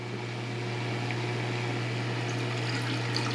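Cooling water in a home steam-distillation setup for rosemary essential oil pours back into a large reservoir bucket, making a steady, continuous trickling rush over a low pump hum.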